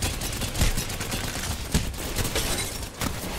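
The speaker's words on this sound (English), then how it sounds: "I'm actually getting shot by 3 people" A video game gunfight crackles with dense, rapid bursts of gunfire as the player is hit from several directions, loud and continuous with sharp impacts scattered throughout.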